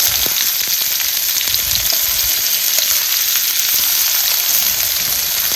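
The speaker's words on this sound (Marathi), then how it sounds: "आता ही बारीक चिरून घेतलेला कांदा टाकायचा" Finely chopped onion fries in hot oil with mustard seeds and cumin, giving a loud, dense, continuous sizzle and crackle with no voices.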